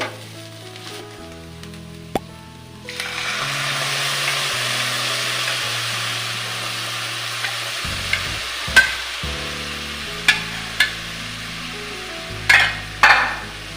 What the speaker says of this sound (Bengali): দেখো আমার গাজরটা কিন্তু ভাজা হয়েও গেছে কীরকম মোলাম হয়ে কমে গেছে